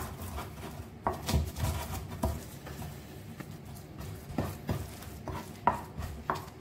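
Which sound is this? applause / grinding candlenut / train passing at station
grinding candlenut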